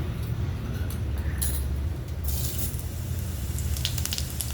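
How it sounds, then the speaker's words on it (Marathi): Cumin seeds crackle and sizzle in hot oil in a pan for jeera rice, a continuous loud frying hiss with brief sharper spatters, no voices. "जिरं तडतडलं"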